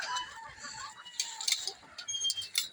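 Silkie chickens hatched outside, clucking softly in short bursts at close range in a quiet pen, with faint rustling between calls.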